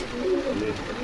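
A pair of pigeons, male and female, at a pigeon market stall in Bogura, cooing in low, soft, repeated notes close by, with voices murmuring in the background.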